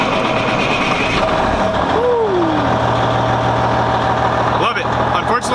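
A blue pickup truck's engine runs at a steady idle, close and loud, with a low continuous rumble and a brief rising whine near the start, while someone talks over it.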